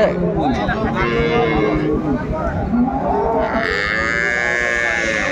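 Dairy cows and calves of improved breeds at Ambari cattle market in Dinajpur, with a bovine moo or low bellow rising over steady crowd chatter and people talking throughout.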